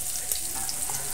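Garlic cloves fry lightly in a pan with a steady soft sizzle and faint crackle, brief and even, with no voices.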